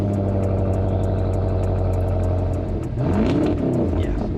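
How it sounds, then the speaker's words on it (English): An affordable sleeper sedan fitted with an aftermarket exhaust idles with a deep, throbbing tone, then the engine revs up sharply and falls back, loud and close. "an aftermarket exhaust sounds real mean."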